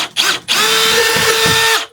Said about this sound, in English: I just go back and forth to make the hole bigger instead of getting a bigger drill bit.